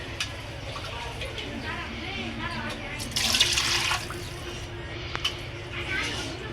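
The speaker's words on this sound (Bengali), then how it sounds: "যে মোরগের গোশতটা আমরা ভালো মতো ধুয়ে নিচ্ছি।" Local rooster chicken meat being rinsed under running water, a steady close tap flow and sink splashing with a louder gush midway, heard under a person talking.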